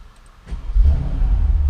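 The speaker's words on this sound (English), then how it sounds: "it has that amazing AMG burble" A Mercedes SL63 AMG engine fires up after a quiet moment, then settles into a deep, loud low-pitched burble that rumbles on close by outdoors in wind.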